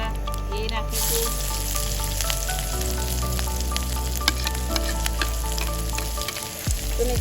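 Chopped onion and chillies fry in hot oil over an outdoor gas flame in a farm field, giving a loud steady sizzle and crackle with a low burner rumble and occasional sharp pops.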